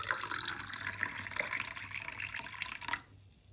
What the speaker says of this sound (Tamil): மண்பானை தண்ணி தான் ஊற்றுறேன்.